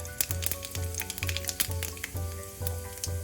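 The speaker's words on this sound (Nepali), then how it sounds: "अब तेल तातेपछि मैले यसमा पुरा 1/4 चम्चा मेथी र अब मैले यसमा पुरा आधा सानो चम्चा जिरा" Fenugreek and cumin seeds sizzle in hot oil in a pan, a steady close crackle broken by dense popping bursts, with a low hum running underneath.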